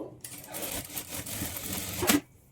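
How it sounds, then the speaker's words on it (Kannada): A sewing machine stitches darts on a net boat-neck blouse, a close, steady mechanical whirr of rapid needle strokes that ends with a sharp click and stops, with no talking. "ಸ್ಟಾರ್ಟಿಂಗು ಎಂಡಲ್ಲಿ ರಫ್ ಸ್ಟಿಚ್ ಹಾಕ್ಕೊಂಡು ಡಾಟ್ಸನ್ನು ಸ್ಟಿಚ್ ಮಾಡಿಕೊಳ್ಬೇಕು"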